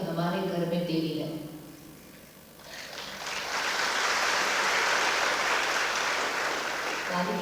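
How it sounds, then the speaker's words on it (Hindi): Audience applause at a Brahma Kumaris retreat centre gathering in Kalaburagi, a broad sustained clatter of many hands swelling up and filling the room after a stretch of talk. "ताली किसके लिए हो जाएगी?"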